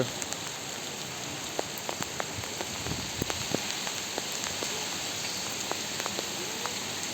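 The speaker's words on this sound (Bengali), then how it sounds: "বৃষ্টি পড়তেছে" Steady rain patters on a rooftop garden, a dense, even hiss of drops with scattered sharper drips landing close by. It continues throughout with no voices.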